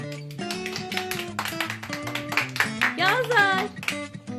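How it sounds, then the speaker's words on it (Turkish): Hand claps ring out in quick succession while voices sing and talk over them, with a voice prominent near the mic. "Alkışlayın"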